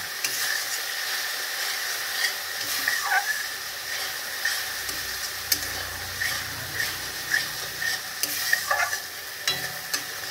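Spices sautéing in hot oil for a Bhola fish curry, stirred with a steady sizzle and repeated scraping strokes of a spoon against the pan, close and continuous with no talking.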